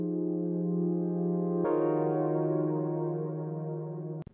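Digital-sounding synthesizer holding sustained bright tones, shifting to a new pitch partway through, steady and clean with no other sounds.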